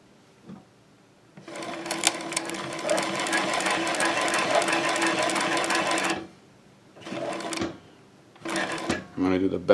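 An industrial sewing machine motor runs steadily for several seconds while stitching, then stops, followed by short bursts of stitching and mechanical clatter, loud and close.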